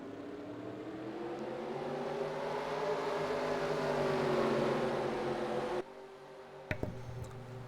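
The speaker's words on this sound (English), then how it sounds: "Drivers, start your engines!" Simulated NASCAR-style stock car engines fire up together for a video game race at Pensacola, a broad sustained roar of many engines that swells and holds, then drops abruptly with a sharper revving burst near the end.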